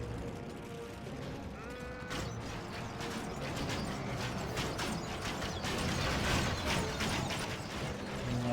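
Crossbows firing bolts in a Third Age: Total War battle, a dense clatter of mechanical clicks and snapping releases over a rumbling battlefield din, with a faint voice in the background.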